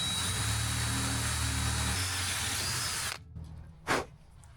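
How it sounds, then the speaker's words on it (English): A power drill pre-drills wood on a wheelbarrow, whirring loudly and steadily for about three seconds, its pitch shifting slightly, then winds down and stops, followed by a brief brushing noise. "You want to make sure you pre-drill the wood so it doesn't split."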